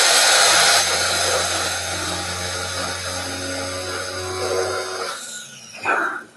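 A blender purees a small amount of chives and yogurt, whirring loud and steady at close range before slowing and stopping near the end.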